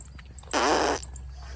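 A single short, raspy fart of about half a second breaks out clearly over a quiet indoor background, with no talk during it.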